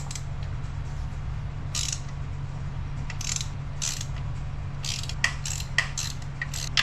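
Ratcheting and clicking of hand tools tightening engine bolts on a 2003 Chevy Cavalier, with short bursts of ratchet clicks at irregular intervals over a steady low hum, close and fairly quiet.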